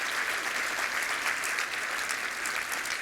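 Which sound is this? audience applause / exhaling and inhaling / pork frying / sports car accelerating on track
audience applause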